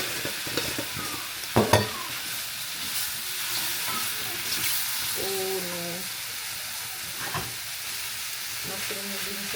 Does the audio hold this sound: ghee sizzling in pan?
yes